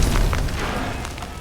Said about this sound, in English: and then the explosion happens